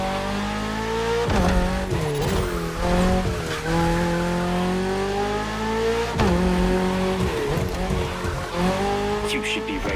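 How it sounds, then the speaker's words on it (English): Toyota GR86, lightweight with a naturally aspirated engine, racing through neon-lit city streets in The Crew Motorfest, engine tones rising and falling through gear changes with tire squeal, loud and close throughout. "You should be ready for anything with that Toyota GR86."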